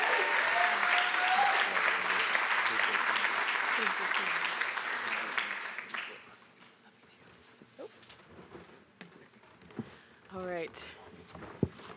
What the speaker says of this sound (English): Let's give her one more applause as she comes up.